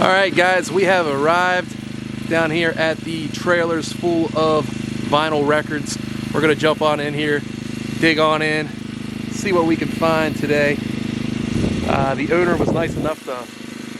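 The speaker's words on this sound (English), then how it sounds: "hook up a generator over here, so you might hear that running right now." Someone talks steadily over the constant low drone of a generator running nearby, its hum unbroken beneath the speech.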